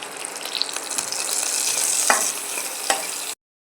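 Cumin, onion, chili, ginger and garlic frying in a pan for a carrot and potato curry give a steady close sizzle with a few stirring scrapes, no voices, ending abruptly.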